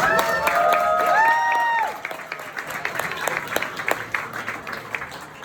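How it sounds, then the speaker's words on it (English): Students receiving shoes are given applause: a room of people claps and cheers loudly, with a voice ringing out over it, then the clapping fades after a couple of seconds into lighter scattered claps. "So, round of applause for these guys, right?"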